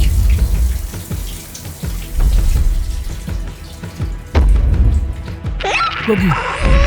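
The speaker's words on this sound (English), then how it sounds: "I'm taking a shower" Water running and splashing in a shower, an uneven spattering stream close by that shifts in intensity, with a brief higher gurgling toward the end.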